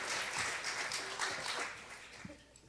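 Applause from a church congregation welcoming a new member during a service, a moderately faint, steady wash of clapping that gradually thins out toward the end.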